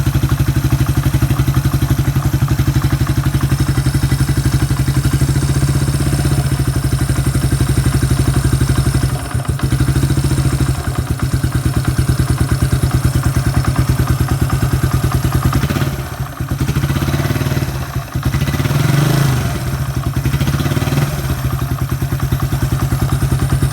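A Suzuki Quad Runner 250 ATV engine idles on choke while warming up, a loud, steady close-up putter with a few brief dips and clattering knocks.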